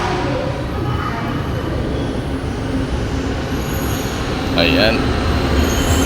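An LRT 2 light-rail train arrives at a station with a loud, steady rumble of rolling wheels, and a squeal of wheels or brakes rises late. Someone speaks briefly over the noise.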